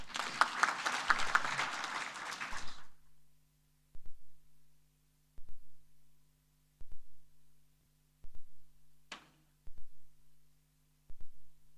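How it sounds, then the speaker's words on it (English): A brief burst of audience applause for panelists at a health conference plenary session, dense and moderately loud for about three seconds, then breaking off into near silence with a low hum and faint isolated thumps. "Let's applaud our panelists."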